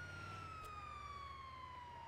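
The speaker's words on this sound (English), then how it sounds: "To get the sirens on, you have to have the lights on" A police car siren wails in a GTA V roleplay game, with one steady, slowly falling tone held for the whole short stretch over a low engine rumble and no talk.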